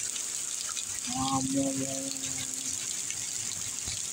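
A large flow of rainwater gushes out during a heavy downpour in Saudi Arabia, a steady broadband rushing hiss that continues throughout while a person talks briefly over it.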